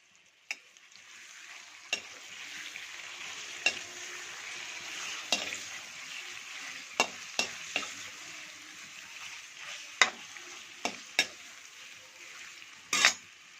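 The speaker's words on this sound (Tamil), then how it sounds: "இப்போது மசாலா போட்ட சிக்கனை வந்து எண்ணெயில் கொஞ்ச நேரம் அப்படியே லோ ஃப்ளேமில் விட்டுட்டு" Masala-coated chicken frying in oil on a low flame, a steady close sizzle broken by occasional sharp crackles and utensil scrapes, with no talking.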